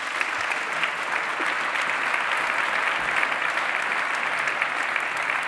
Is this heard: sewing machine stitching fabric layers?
no